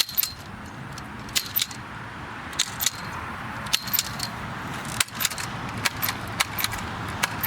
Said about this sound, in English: Cut these remaining shoots that are going straight up.